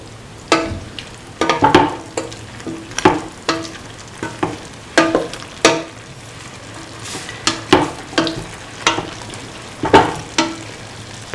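Beef stew with carrot and ivy gourd being stirred in a frying pan, a steady sizzle under repeated scraping strokes that come in uneven bursts, close and fairly loud, with no talk.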